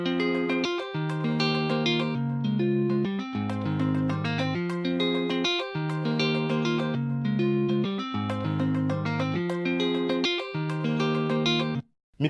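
Amapiano beat with a volume effect shaping the lead note, so it enters quieter and its trailing effects swell. Dense harmonic synth and bass notes play in steady repeating patterns at even loudness, with a brief dip near the end.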